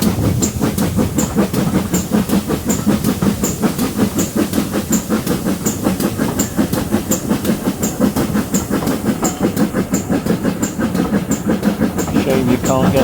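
A steam train runs on the Bodmin Steam Railway with a steady, rhythmic clickety-clack of wheels over rail joints and a constant rumbling hiss, loud and close throughout.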